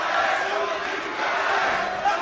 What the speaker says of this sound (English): The crowd cheering for Luke Riley